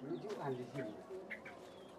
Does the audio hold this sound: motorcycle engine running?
no